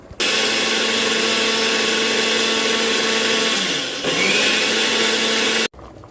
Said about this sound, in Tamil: இப்போ நாங்கள் மிக்சியில் போட்டு அடிக்க போகிறோம்